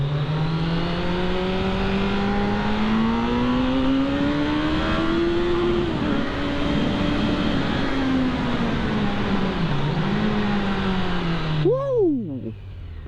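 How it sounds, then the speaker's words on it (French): Kawasaki Z motorcycle accelerating hard through a Paris tunnel, its engine note climbing steadily and roaring loud and close with reverberant echo, then easing off near the end. "petite accélération dans le tunnel"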